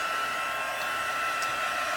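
A hair dryer blows steadily and loudly, close up, drying a wet stamped paper card in a craft setting, with a continuous airy whoosh and no talking.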